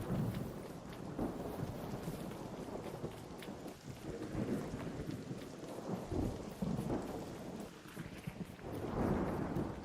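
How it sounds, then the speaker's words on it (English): Electromagnetic storm in the ARC Raiders video game: steady heavy rain and rolling thunder rumbles with wind, continuous and loud throughout, no voices. "Electromagnetic storm is kind of scary"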